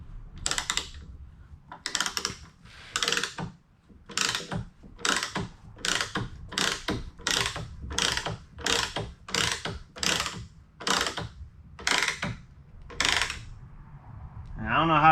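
A riv nut is tightened into a 21/64 hole on a Jeep WJ Grand Cherokee, giving a run of about fifteen sharp, regular ratcheting clicks in quick bursts, close and fairly loud.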